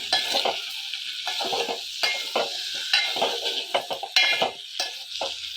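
Eggplant sautéing in oil in a pan for a tamarind curry, with a bright continuous sizzle and repeated close scraping stir strokes at an even rhythm.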